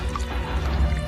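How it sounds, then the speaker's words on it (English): Water flooding in and dripping inside a ship's lower decks, a soft continuous trickle and pour with small drips, fairly close and unaccompanied by talk. "There's blooming water coming in!"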